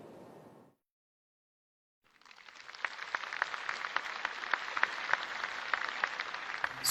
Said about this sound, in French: Sous les applaudissements du monde universitaire africain